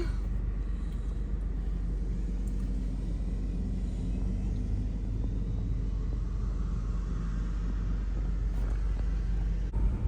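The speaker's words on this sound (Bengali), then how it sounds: "এই যে সিটি বাস যাচ্ছে" A city bus passing along a street on a cloudy, rainy afternoon, heard as a steady low engine rumble and road noise that fills the whole stretch without any clear rise or fade.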